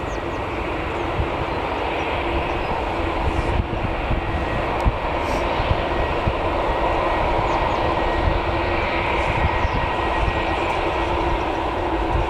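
A Ryanair jet taxiing at Newcastle Airport gives a steady, loud broadband engine roar with a constant whine, unchanging throughout.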